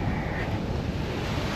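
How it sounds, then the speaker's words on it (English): Steady rushing of waves washing in on a lakeshore, continuous and fairly loud with wind noise across the microphone, no voices. "We got some decent sized waves coming in today, nothing huge"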